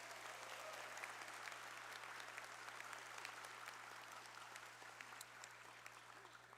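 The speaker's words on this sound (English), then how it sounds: "another big round of applause" Graduation ceremony audience for health science programs breaking into sustained, even applause across a large hall, heard at a distance and quiet overall, with a steady low electrical hum beneath.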